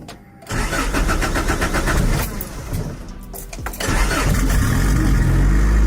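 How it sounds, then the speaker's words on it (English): The car called Monster Tango, which has a badly blown transmission mount, cranks and fires up close by, then settles into a loud, rough, steady idle with a brief dip in the middle before revving back up. "Sounds like a Honda."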